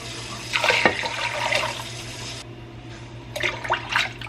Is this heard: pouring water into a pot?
yes